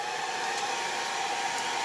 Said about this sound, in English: I'm going to try to talk over my hair dryer while I do it.